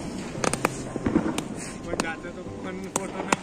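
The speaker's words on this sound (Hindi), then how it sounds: "मैंने खट्टा सूत्री बम फोड़ा है इसलिए मैंने आग लगाई है" Sutli bomb firecrackers burst during Diwali night celebrations, giving several sharp, fairly loud cracks scattered across a busy background of voices and crowd noise, with people talking throughout.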